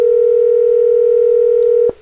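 A steady telephone dial tone plays loud and unbroken through a speakerphone on a television call-in show, then stops abruptly near the end.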